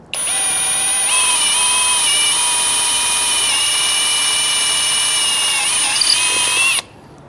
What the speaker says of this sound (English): And we can go ahead and just drill a hole right here.